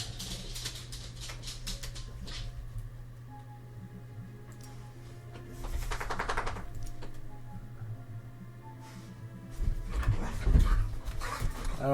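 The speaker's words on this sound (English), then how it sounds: "now my dogs are starting" Dogs pant and make noise in the Marvel's Midnight Suns video game, with rapid breathy panting over a low steady hum that swells louder toward the end.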